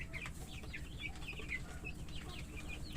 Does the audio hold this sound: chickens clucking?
yes